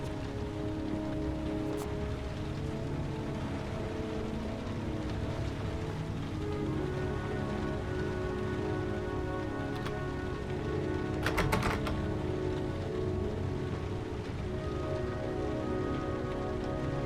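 Steady rain falls in the video game Heavy Rain, a dense, even patter on hard surfaces that runs unbroken throughout, with a few brief sharp clicks standing out.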